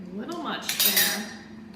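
A spoon clinks and scrapes against a cup of milk with vanilla extract stirred in, a short run of close metallic taps and swishes, faint tonal noise underneath.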